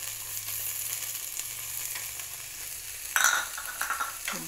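Okra and garlic fry in a pan for a tangy okra curry, giving a steady close sizzle with a brief clatter of stirring around the middle and soft scraping near the end.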